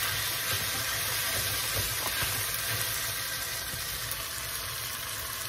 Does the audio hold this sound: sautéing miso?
yes